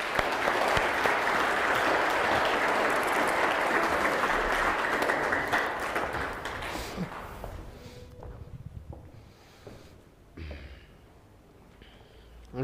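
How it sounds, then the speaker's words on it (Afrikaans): Congregation applause for church confirmation candidates, a dense, loud burst of clapping that holds steady for several seconds, then thins out and fades to scattered claps and quiet room noise. "Kom ons klap vir hulle hande."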